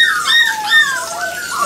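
A Mini AussieDoodle puppy whining during a bath, a series of high, wavering squeaky whimpers close by, sounded alone without talk.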